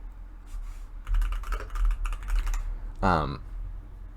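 Clicky keystrokes on a computer keyboard as a website search is typed, in quick bursts and pauses, close and fairly loud, with a voice breaking in briefly near the end.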